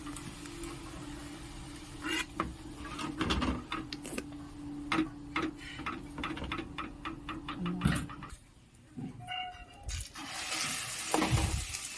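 Egg kabiraji cutlets frying in hot oil, a steady bubbling sizzle speckled with sharp ticks and crackles, moderately close and with no voices.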